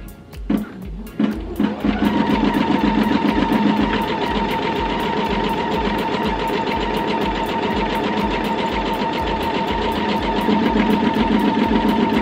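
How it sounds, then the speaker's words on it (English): An EverSewn Hero embroidery machine stitches a rectangle border, attaching fabric to stabilizer for a patch, running as a steady loud rhythmic mechanical whir after a brief start and holding constant throughout. "Now it's going to re-sew the rectangle border to attach the fabric to the stabilizer."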